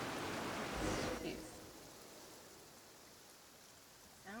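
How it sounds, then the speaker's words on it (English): Soft, steady rain hiss in the game Genshin Impact, louder and broader at first and then settling into a faint, even patter. "Sounds like it's raining."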